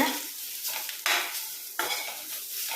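A utensil scrapes and stirs spices and pepper through something sizzling in a frying pan, with a few sharper scrapes against the metal, close and steady.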